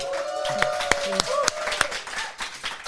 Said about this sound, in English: Let's make it sound like there are people here and give them a hand.